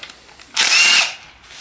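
A power tool gives one short, loud whirring burst of about half a second as it backs out a 10mm valve cover bolt during a Nissan 300ZX engine rebuild.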